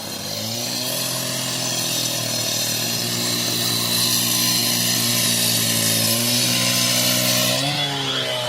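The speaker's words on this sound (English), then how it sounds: "that sound is the sound of a grinder slicing through curbs" A grinder slicing through kerbs at a motorway service station screams continuously nearby, a loud, harsh whine whose pitch shifts slightly as the blade bites into the stone.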